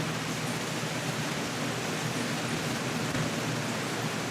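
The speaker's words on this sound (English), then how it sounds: "Now the rain's blowing 180 degrees the other direction." Steady, dense rush of rain and wind in a Zwift cycling ride through London, a constant broadband hiss with no breaks and no voices.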